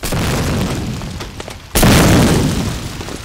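Grenade blowing up in Medal of Honor: Allied Assault, a match in play, with steady battle rumble first, then a sudden sharp, loud blast that decays into a lingering rolling boom.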